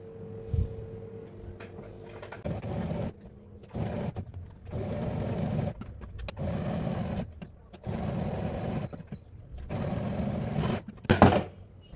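A sewing machine stitches the back piece of a crop top in repeated runs of steady whirring, stopping and starting between short pauses, close-up.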